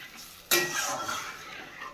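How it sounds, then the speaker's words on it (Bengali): Eggplant curry being stirred in a pot: a sudden clink of utensil against the pot, then a short scraping stir and soft bubbling sizzle, close and fairly quiet. "এবারে ভালো করে এটাকে নাড়িয়ে নেব আর ফুটতে দেবো ভালো করে নাড়িয়ে ফুটতে দেবো"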